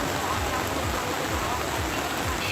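Heavy downpour in Kushinagar, a dense, steady hiss of rain pouring without pause, loud and close throughout.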